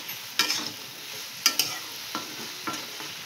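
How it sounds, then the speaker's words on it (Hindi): Potatoes and brinjal with mustard are stirred in a pan, a steady sizzle broken by several sharp spoon scrapes and clinks, close and alone with no talk. "सबु पनीपरिबा आलू बैगण को सबु सोरिष पके मिक्स कर देली।"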